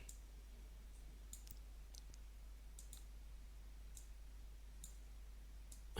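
Computer mouse clicks at a desk, a handful of light, sharp ticks spaced a second or so apart over a steady low electrical hum, faint and close.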